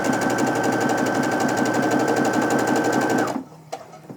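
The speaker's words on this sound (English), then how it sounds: "I'm going to put them right sides together here and start sewing" A sewing machine runs steadily and loudly at close range while stitching quilt fabric pieces placed right sides together, then stops abruptly near the end, leaving a few faint handling clicks.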